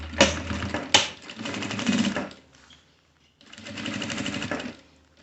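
Sewing machine stitching the side of a flap pocket in two loud bursts with a short pause between them, the motor whirring up and down close by.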